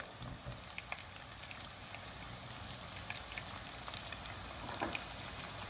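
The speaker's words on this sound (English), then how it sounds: "Now with the water simmering and boiling" Salted water bubbling in a pot for pasta, a soft constant hiss dotted with small irregular pops and ticks, fairly quiet and close.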